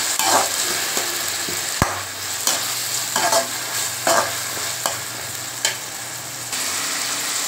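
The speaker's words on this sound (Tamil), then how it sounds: "இப்போ அந்த தக்காளியை போட்டுக்கோங்க. போட்டு நல்லா வதக்குங்க." Steady sizzling of tomatoes frying in a pan for a dried-fish curry, with repeated scraping strokes of a spoon stirring through them, close and continuous.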